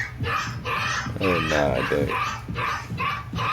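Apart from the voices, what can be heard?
small young puppy barking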